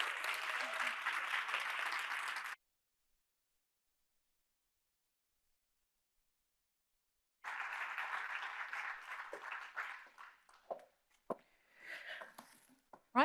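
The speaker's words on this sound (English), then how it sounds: "Please give her a round of applause." A conference audience claps as a speaker comes on stage: a dense round of applause, a long silent gap, then a second burst of clapping that thins into scattered claps and brief talk.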